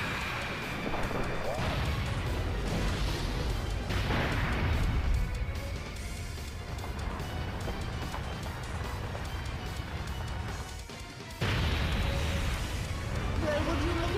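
Active-skill attack explosions and impacts from the Dragon Ball Z Dokkan Battle mobile game, a dense loud barrage of booms and crashes filling the whole stretch with a brief dip before a final burst.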